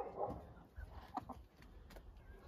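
Hens clucking in a backyard flock, several short nearby calls in irregular bursts over low outdoor background noise.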